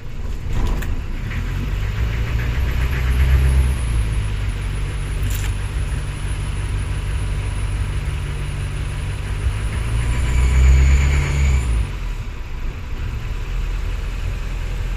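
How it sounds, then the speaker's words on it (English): The engine of a Coronet 24 De Luxe boat starts and settles into a steady, low rumbling idle that runs evenly, close and loud, with no talk over it. "Engine starts and runs very nicely."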